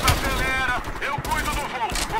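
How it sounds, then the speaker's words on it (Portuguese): Call of Duty: Cold War battle with scattered gunshots and bursts cutting through game sounds and a voice, moderately loud and somewhat distant. "Tiro de tudo que é lado, olha lá."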